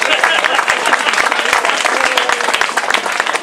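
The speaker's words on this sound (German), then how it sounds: "Auch einmal ganz lauten Applaus." Loud crowd applause at an ice hockey team presentation in Bad Nauheim fills the space, dense clapping from many hands with a few shouts mixed in, continuous throughout.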